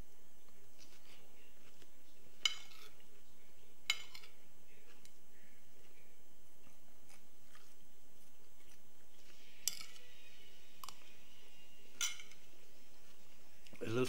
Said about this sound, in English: me eating a salad with a spoon